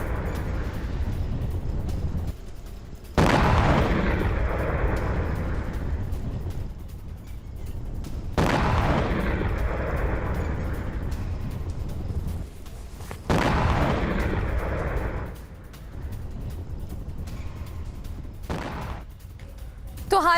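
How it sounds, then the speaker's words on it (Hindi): HIMARS and ATACMS missile launches from Kuwait: several heavy roaring blasts, each starting abruptly and rumbling on for seconds before fading, spaced a few seconds apart over a constant low background rumble. "कुवैत से ATACMS मिसाइल दागी गई और प्रिज्म मिसाइलें भी लॉन्च की गई।"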